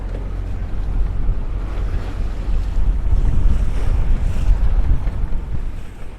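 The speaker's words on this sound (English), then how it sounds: "It's some short and crabby waves coming now and then." Short, choppy waves slap and wash against a sailboat on Denmark's Limfjord while strong wind roars steadily across the microphone, loud and close throughout with no voices.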